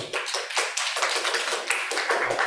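Audience clapping at a seminar on human capital, metaverse and artificial intelligence: scattered, uneven hand claps from a modest group, close and moderately loud, with no talk.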